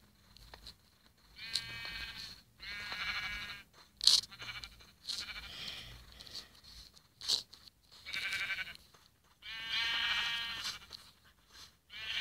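Sheep bleating around a pen, several wavering calls in irregular bursts separated by short pauses, moderately loud and close, with some crunching and rustling between calls.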